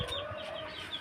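A loose white chicken gives a short, faint cluck or two, brief and slightly distant with soft background noise.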